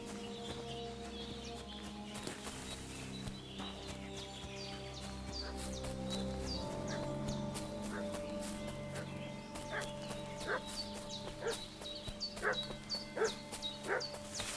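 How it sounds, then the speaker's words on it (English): Dog barking in a medieval village in Kingdom Come: Deliverance 2, a string of sharp barks growing louder and more frequent near the end, mixed with horse hooves, whinnies and game music. "What's that dog making such a fuss about?"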